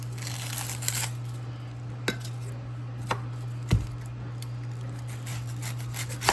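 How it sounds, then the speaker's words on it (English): A kitchen knife cutting an onion on a board while making homemade pasta sauce: a few sparse, sharp taps spaced about a second apart over a steady low room hum, with no talking. "I'm gonna cut up some onion"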